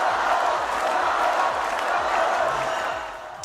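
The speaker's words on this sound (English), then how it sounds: "fans cheering on Carlos Alcaraz as the 20-year-old Wimbledon champion posed for photos on the balcony of the Wimbledon clubhouse" A crowd of fans cheering for 20-year-old Wimbledon champion Carlos Alcaraz at the Wimbledon clubhouse, a steady distant roar of many voices that fades slightly at the end.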